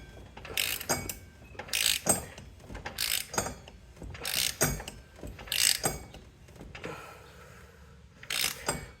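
A socket ratchet works the wheel nuts on a 2014 Polaris Sportsman 570, clicking in about six quick bursts with short pauses between, close and fairly quiet.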